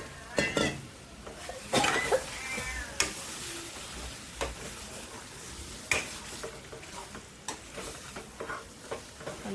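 Chicken curry with coconut is sautéed and stirred in a pan over a low stove flame, with soft sizzling under repeated scrapes and knocks of a spoon against the pan.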